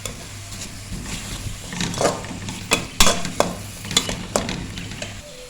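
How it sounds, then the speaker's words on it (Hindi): Steady sizzling of onions frying golden in hot oil, with a few sharp scraping clicks of a utensil stirring the pan. "और अब हम इसमें अपने प्याज को जो है हम गोल्डन करेंगे।"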